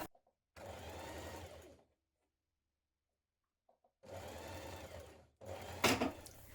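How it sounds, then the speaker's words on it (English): Sewing machine running in bursts while stitching a 5mm seam in linen blend fabric for a top, close and steady, with a silent pause between runs. "with right sides facing, we're going to stitch a 5mm seam again"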